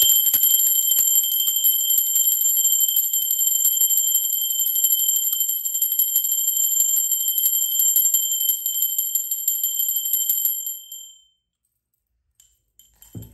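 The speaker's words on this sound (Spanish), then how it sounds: "Va campana." A struck meditation bell or chime rings out in a long sustained high metallic tone, steady and bright for about ten seconds before fading to silence, alone with no talking.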